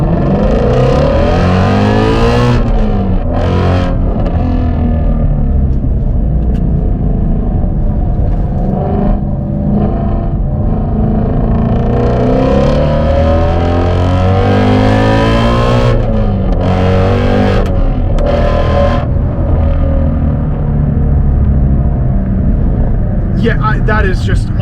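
Shelby GT350 Mustang accelerating hard through a roundabout, a loud, continuous engine note rising and falling with revs close up, under steady excited talk throughout.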